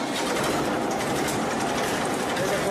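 A Massey Ferguson diesel tractor engine idles steadily close by, a continuous rough chugging drone with no breaks.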